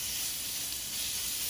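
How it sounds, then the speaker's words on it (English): Seasoned beef browning in hot grease in a frying pan gives a soft, steady sizzle and hiss, faint and unbroken for a brief moment. "we are going to brown our meat and our grease that's heating up"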